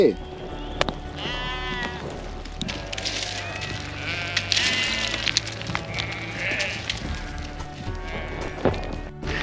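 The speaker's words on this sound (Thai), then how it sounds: "เราลองดักน้องแกะก่อน" Sheep bleat repeatedly amid a noisy outdoor scene on a Kashmir Great Lakes trek, with rain-like hiss and people talking nearby.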